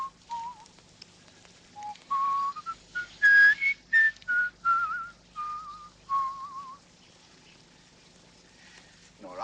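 Someone whistles in a period film scene, producing a series of short, clear whistled notes and brief stuttering tries that rise and fall, quiet and close, with soft pauses between them.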